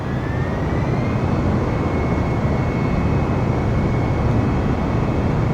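Steady, loud airplane engine roar at full throttle during a takeoff roll in Microsoft Flight Simulator, a continuous broadband drone with a faint rising whine throughout, no voices.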